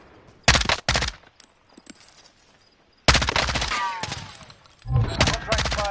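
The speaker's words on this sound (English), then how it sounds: "I'm taking fire!" Video game gunfire in loud bursts of rapid machine-gun shots, two short volleys early, then a longer sustained stretch of fire with a pause before a final burst.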